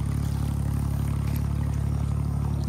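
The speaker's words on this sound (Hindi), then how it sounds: "एक तो ट्रैक्टर भी आ रहा है" A tractor's diesel engine drones steadily with a strong low, even throb near fields of grass, holding constant without any talking over it.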